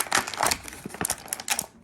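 Plastic blister packaging around Batman TV action figures crinkles and crackles in quick, close bursts as the figures are pulled free, loud and uneven over a second or two.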